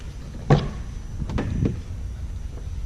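The door of a 2016 Nissan Altima with chrome handles opens: a sharp latch click followed by a couple of softer thuds and clacks from the door, close up and without speech.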